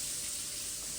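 Two split green chillies sauté in butter in a pan, giving a soft, steady sizzle that runs evenly throughout.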